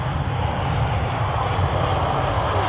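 A loud, continuous roar of a large Emirates jet airliner landing at Manchester Airport, throwing spray off the runway, a steady broadband rush of engine noise with no pauses throughout.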